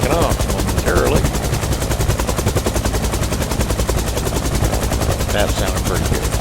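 Nimbus Huey UH-1 model helicopter at full rotor speed before takeoff, a loud, close, rapid rhythmic chopping drone that holds steady throughout with no talk.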